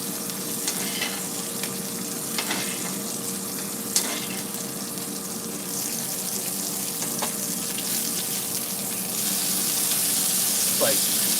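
Bacon sizzles and crackles steadily in a pan, a continuous close frying hiss with occasional brief clicks and scrapes, growing slightly louder toward the end.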